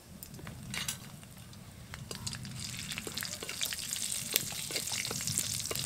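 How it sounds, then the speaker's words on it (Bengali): Bay leaf, nigella seeds and slit green chillies sizzle steadily in hot oil, a close, continuous frying hiss with scattered crackles and pops that builds slightly louder over the seconds, no voices. "তেলের মধ্যে ফোড়ন দেব। একটা তেজপাতা দেব, কালো জিরে দেব, 3টে চেরা কাঁচা লঙ্কা দেব,"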